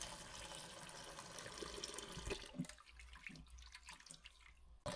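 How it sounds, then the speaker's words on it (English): Tap water runs steadily into a container being filled for cleavers herbal tea, a soft continuous gush that thins toward the end, faint and alone. "I'm going to fill it with water"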